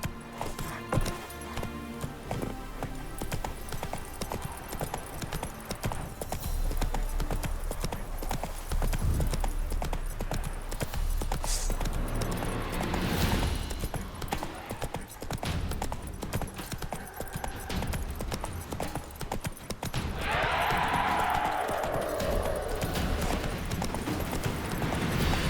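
Horse hooves clip-clop steadily in The Witcher 3: Hearts of Stone video game, a continuous rapid galloping patter over game ambience and music, with a neigh and brief shouting partway through.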